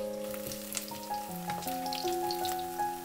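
Cheese potato pancake frying in a lightly heated pan, a quiet steady sizzle and crackle, with soft sustained musical tones running underneath and no speech.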